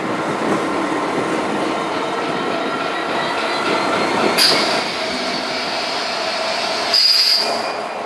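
Norfolk Southern slug set, a GP22 Eco locomotive paired with a slug unit, rolling through a freight rail yard, giving a steady loud rumble and clatter of wagons with brief high wheel squeals.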